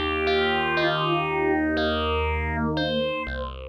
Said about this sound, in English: now you can hear that each voice has its own modulation curve on the phaser.